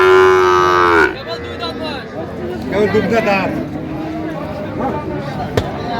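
A cow lets out one long, loud moo at a busy village cattle market in Raniganj where cows with calves are sold, then the call gives way to a crowd of people talking and bargaining nearby.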